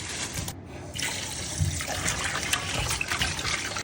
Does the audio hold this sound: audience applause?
no